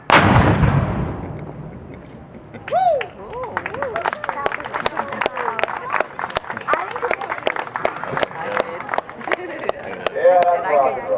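A cannon firing a blank round at the Grand Hotel on Mobile Bay sounds as a loud close boom at the start with a long rumbling decay, then a crowd breaks into sustained applause and cheering.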